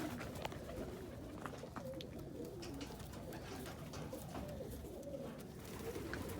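A young dilute almond Indian Fantail pigeon cock coos softly and repeatedly, faint and close, over a constant low background noise.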